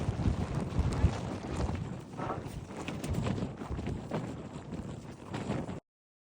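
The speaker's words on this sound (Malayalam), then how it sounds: "ഈ വീഡിയോ കണ്ടാൽ അറിയാം കാറ്റ് എത്രത്തോളം ഉണ്ടെന്ന്." Strong wind on a misty, rainy hilltop at Kakkadampoyil in Kerala, heavy gusting buffets and roars across the microphone without a break, then cutting off abruptly.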